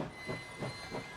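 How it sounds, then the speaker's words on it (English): A slowing train in the video game Last Train Home, giving a steady low rumble with three soft rhythmic swells of clatter about a third of a second apart, faint and alone with no talking. "The train stops several dozens of meters before the station"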